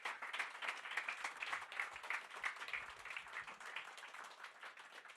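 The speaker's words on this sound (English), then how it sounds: "So big applause to them, and a big applause to yourself for coming" Audience applause at the close of a Norwegian-Ukrainian friendship society lecture, steady crowd clapping of moderate density that is fairly quiet and even, heard alone without speech.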